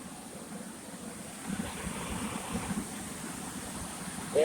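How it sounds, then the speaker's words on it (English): A homemade blower fan mounted on the back of a wood stove in a workshop runs with a steady, airy whoosh, a continuous broadband rush at moderate level that swells slightly partway through. "that's how you do a redneck fucking blower on a wood stove"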